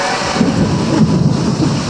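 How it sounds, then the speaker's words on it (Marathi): Thunder rumbles loudly and close through a heavy, windy rainstorm, deep and rolling beneath the dense, continuous roar of pouring rain. "विजांचा कडकडाट."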